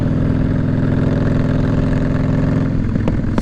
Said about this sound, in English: I recently replaced with these short shot drag pipes, if you can see them. They're loud.